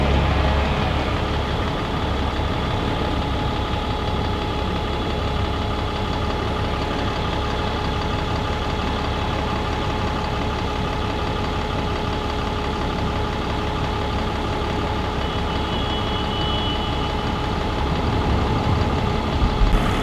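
A new D&G bus idles at Crewe's new bus station, its engine a steady, close low rumble with a faint knocking throb that holds evenly for about twenty seconds, with no voices.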